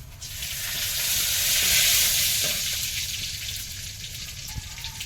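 Whole cumin, whole garam masala and bay leaves hit a little hot oil for a Bengali potato curry, giving a loud, close, continuous sizzle that swells in the middle and settles into a steady crackle with a few pops.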